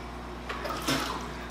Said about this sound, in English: take your tube, I'm gonna siphon some water out into the water itself